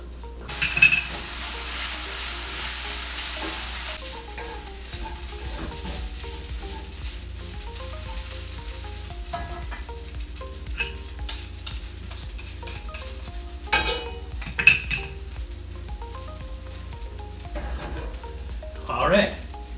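Sauce sizzles and hisses as it is stirred into toasted cup noodles in a hot pan, a steady close frying hiss broken by scraping stirs and a few sharp utensil clinks.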